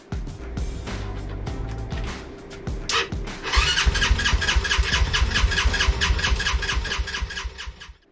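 A race car engine cranking with a few labored turns, briefly catching, then firing and settling into a loud, rough, close idle that cuts off at the end; no talk.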